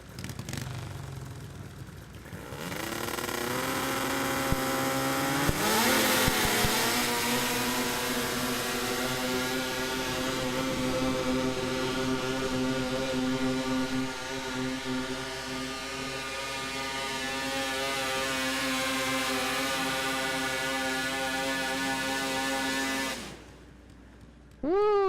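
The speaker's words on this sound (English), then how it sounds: "Definitely sounds like a snowmobile" A snowmobile engine powers a garden tractor at a county fair pull, droning loudly with a rising, strained harmonic whine that climbs sharply, holds steady for long seconds, then cuts off abruptly near the end.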